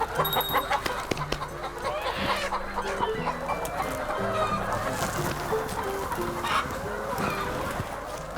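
Chickens clucking steadily at a poultry farm, several birds close by with overlapping calls and a rooster-like squawk now and then, continuous farmyard chatter throughout.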